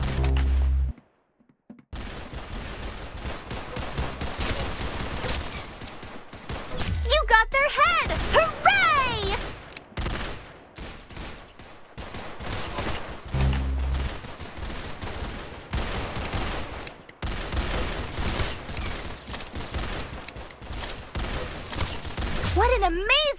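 Rapid gunfire bursts from the Roblox game Arsenal, sharp repeated shots scattered through the stretch, with excited talk over and between them.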